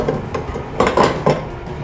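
Squid pan-frying in olive oil in a frying pan, with a steady low sizzle and a few clinks and knocks of utensil against pan, loud and close.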